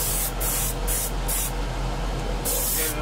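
Airbrush or spray gun bursts over a model aircraft canopy on a Phantom model, several short hissing passes with brief pauses over a steady low hum, close and loud.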